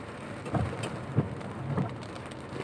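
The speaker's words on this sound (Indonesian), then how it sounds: "Turun hujan" Rain falls on a Jakarta street in a steady wash, with a few soft low thuds that could be distant thunder rolling underneath; no one speaks.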